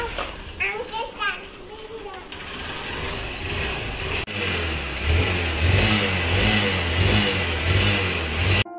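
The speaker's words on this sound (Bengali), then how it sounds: "মিষ্টুর বাবার বাইকে করেই আমরা আজকে স্কুলে চলে এলাম।" A motorbike carrying passengers to school revs close by, its engine rising and falling in a low mid-pitched drone beneath children's chatter and adult voices.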